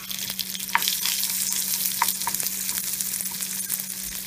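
Black lard melting in a frying pan, giving a continuous crackling sizzle with intermittent brighter pops over a low steady hum, heard close and without talk.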